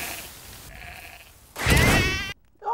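A sheep in a video game gives a single loud, wavering bleat after a faint electronic hum and a brief muted tone, followed by silence and another short burst.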